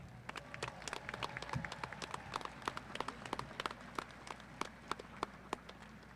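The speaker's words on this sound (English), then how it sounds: "Please join me in applauding these two remarkable scholars." Scattered applause from a modest crowd at a high school commencement ceremony, individual claps distinct and fairly faint, heard from a distance in a large room.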